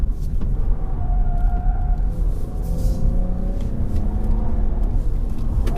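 A 2020 Toyota Camry TRD pulls at full throttle, its engine holding a loud, steady droning rumble with faint tonal whine, short shifting around 4,000 RPM.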